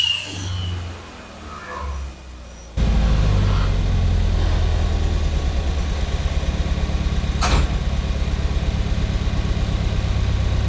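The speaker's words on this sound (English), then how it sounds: "There's a vacuum leak right here, and that's the part of the weird idle. unstable idle." An EcoBoost Fiesta ST engine swapped into a Ford Festiva starts up and runs at a loud, rough idle with a fast uneven pulsing, sitting close and steady, with a vacuum leak making the idle unstable.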